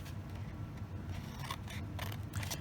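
Scissors cut through a decorated paper bag along score marks in a few close, soft snipping strokes, quiet and crisp against low background hum.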